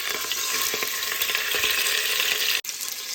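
Country ribs brown in a pan with a loud, even frying sizzle and crackle, steady throughout apart from a sudden momentary cut near the end.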